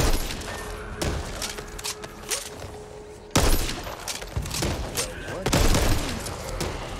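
Gunfire in the zombie shooter game Back 4 Blood crackles in dense bursts of sharp shots, with a brief pause and a couple of louder impacts, as a player fires while surrounded; speech is faintly present.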